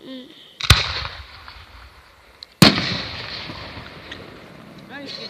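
Two sharp New Year's firework bangs burst about two seconds apart, each ringing out with a crackling, rumbling tail, while wind noise runs underneath throughout.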